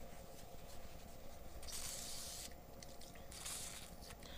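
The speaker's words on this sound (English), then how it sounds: "So we're just going to put a little bit of WD-40." Short hissing bursts of WD-40 sprayed onto the cylinder bores of a Chevy 235 inline-six engine during a rebuild, two bright sprays close to the microphone over a quiet, low background hum.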